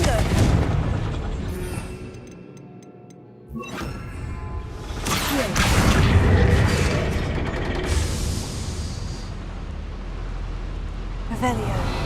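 Explosive spell blasts from the Confringo curse in Hogwarts Legacy, a loud booming burst with whooshing debris and clattering mechanisms over a dense game soundscape, with a brief lull before the blast and a spoken voice present.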